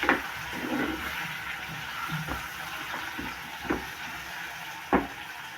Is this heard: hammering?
no